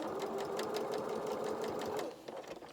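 A sewing machine runs steadily, stitching a quarter-inch seam across fur pile fabric for a plush toy body, its rapid needle chatter humming continuously for about two seconds before easing off, close and fairly quiet.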